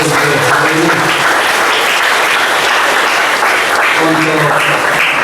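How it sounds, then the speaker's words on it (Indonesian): A church congregation at an Easter Mass gives loud, sustained applause for the organist, readers, psalmist and altar servers, a dense even clapping that fills the whole space without a break. "Kita beri aplaus yang meriah untuk petugas ini"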